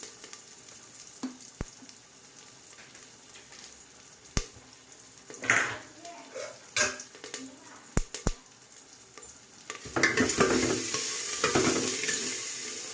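Mustard seeds, onion, curry leaves and one dried chilli frying in hot oil for a festival tempering, sizzling with sharp pops and spoon-against-pan scrapes, building into a louder continuous sizzle near the end.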